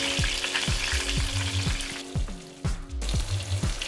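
Fish frying in a pan with hot oil, a steady loud sizzle with rhythmic bubbling pops and a brief clatter near the end, close up and without talk.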